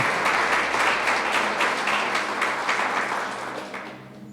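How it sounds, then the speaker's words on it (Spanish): A church congregation applauds together, a dense, steady wash of many hands clapping that slowly fades toward the end, heard alone with no speech. "¿Cuánto le dan un fuerte aplauso a Dios por eso?"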